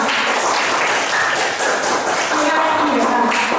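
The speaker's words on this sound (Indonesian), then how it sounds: "Tepuk tangan untuk kita" An eighth-grade middle school class claps hands together during a lesson, a dense burst of clapping mixed with voices.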